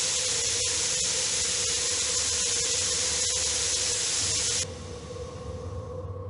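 Steam hisses loudly and steadily from a leak in an Agatha Christie mystery game, a broad continuous rush that drops abruptly to a quieter hiss near the end.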